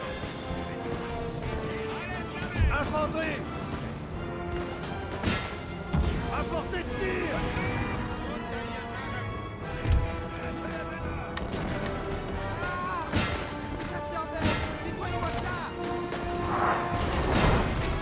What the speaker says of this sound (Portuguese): Tirão de canhão pegou aqui.